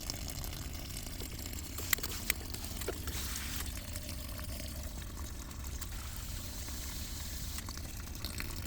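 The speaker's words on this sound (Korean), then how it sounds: "그냥 막 거의 수도꼭지 틀어놓은 것처럼 막 빠져요." Water drains fast through fresh potting soil in a large geranium pot after repotting, a steady close rush and gurgle like an open tap, continuous with a couple of faint ticks.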